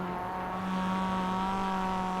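A race car in the iRacing simulator drives on a wet track, its engine giving a steady, even tonal drone that rises slightly in pitch over about two seconds, with no talk over it.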